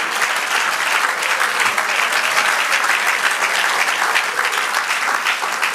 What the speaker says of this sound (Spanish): Dale aplauso. Celébralo, iglesia.